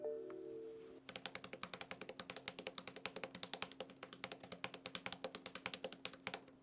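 Fast, steady keystrokes clatter on a second-generation Xiaoxin Pad keyboard case, a crisp run of close, evenly spaced taps that starts after a brief pause, with no voices.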